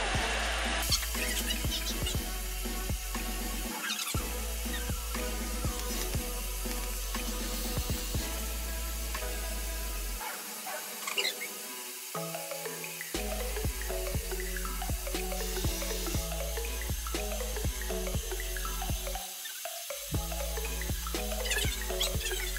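Running water streams steadily and loudly close by as a whole head of hair is washed and rinsed at a sink, with a few brief pauses in the flow.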